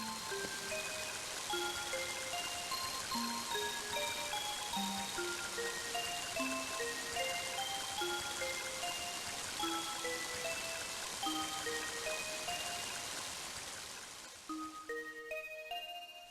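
Rain falls in the video game Mother 3 as a soft, constant hiss beneath a gentle melodic tune of separate bell-like notes, continuing throughout with no voices.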